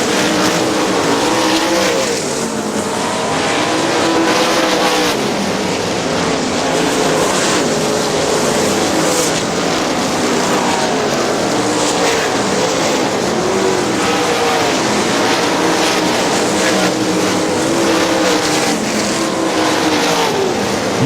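410 sprint cars race around a dirt oval at Butler Battlegrounds in Quincy, Michigan, a sustained roar of several engines running continuously and loud throughout, with no talking over it.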